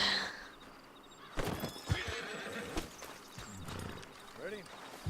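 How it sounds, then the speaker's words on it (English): A horse neighs and its hooves clop in the Western game Red Dead Online, with several whinnies and a few hoof strikes close by over a quiet background of ambient sound. "Then you better get on this horse"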